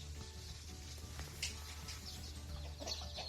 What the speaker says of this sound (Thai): นี่ครับพามาดูลูกไก่นะครับ อันนี้เป็นลูกไก่ลูกผสมนะครับ